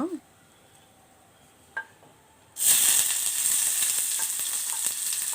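Onions for a Kerala moru (curd) curry are dropped into hot oil, and a sudden loud sizzle erupts partway through and keeps hissing steadily, after a quiet start with a small clink.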